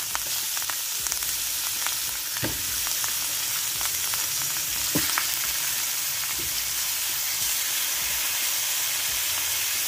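Oxtails sear in a very hot skillet with a steady, close sizzle and hiss throughout, broken by a few sharp crackles and pops. No voices are heard.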